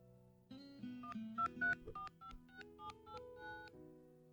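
Phone dialing tones, a run of about a dozen short electronic beeps in an uneven rhythm over soft background music, fairly faint and with no talking.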